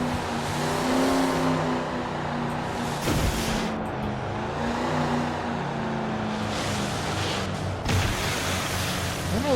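Motorboat engine droning steadily over rolling ocean waves in the Just Cause 2 video game, a continuous loud hum with tonal engine harmonics and surf wash, swelling briefly in bursts.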